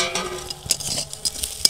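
Puti fish drop into a pan of frying onions and spices, giving a soft sizzle under close scraping, stirring and light utensil clinks against the pan.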